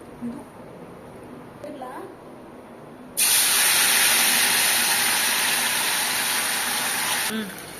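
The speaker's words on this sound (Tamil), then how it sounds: "இப்போ சிக்கன் போட்டாச்சு. இப்போ நல்லா ஃப்ரை பண்ணணும்." Marinated chicken 65 pieces dropping into hot oil for deep-frying, a sudden loud, hissing roar of bubbling that starts abruptly and holds steady for several seconds before easing, after a quieter lead-in.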